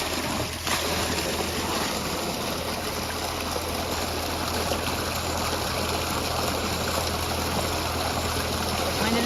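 Continuous rushing gush of water pouring steadily from a motor-pump pipe on a farm, loud and close, with a constant mechanical hum underneath.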